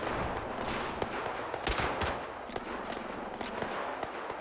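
In the video game Fallout 76, gunfire crackles in sharp shots and short bursts, irregular and moderately distant over a dense background.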